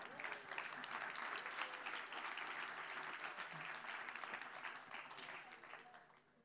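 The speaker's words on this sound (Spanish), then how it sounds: "Un aplauso a Daniel, hombre." A church congregation applauds Daniel, steady dense clapping at a quiet, distant level that holds for several seconds before tapering off slightly toward the end.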